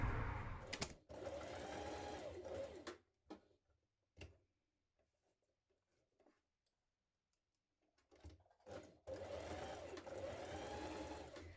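A sewing machine bastes a jumpsuit seam in two steady whirring runs at the start and end, close and fairly quiet, with soft clicks and handling noises in the pause between.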